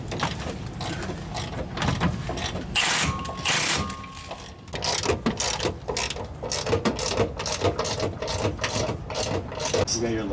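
Lug nuts being tightened on a car wheel during an R34 Skyline build, a run of close, rapid metallic clicks and ratcheting bursts with brief pauses between, a voice speaking briefly.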